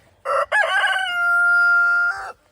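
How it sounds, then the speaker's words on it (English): A black Americana rooster on an old homestead crows once, loud and close, with a sharp opening burst that stretches into a long, steady call and then cuts off. "It's the black Americana rooster right there."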